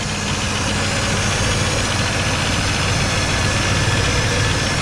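A 1989 GMC Sierra truck engine with 292,000 miles idles high, a loud, steady, close-up mechanical drone with an even rumble and no pauses.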